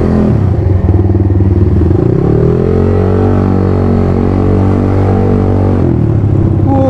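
A 218 cc motorcycle engine riding along, its loud steady drone shifting pitch as it runs continuously near the rider, with no talk over it.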